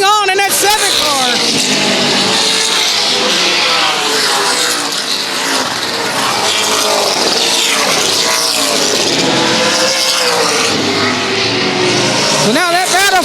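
Race cars roar past on the oval at Central Texas Speedway, loud sustained engine howls rising and falling as they pass, with an excited commentator talking over them throughout.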